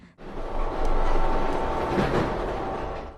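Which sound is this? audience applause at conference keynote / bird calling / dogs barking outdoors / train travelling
train travelling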